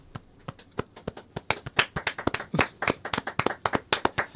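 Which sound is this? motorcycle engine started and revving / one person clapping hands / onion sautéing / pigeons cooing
one person clapping hands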